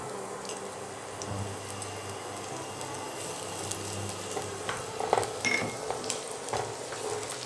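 Chopped garlic and green chili frying in a pan, a soft steady sizzle with occasional light clinks and stirring scrapes, close and without voices.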